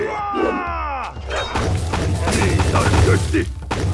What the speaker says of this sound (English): Fireball effect!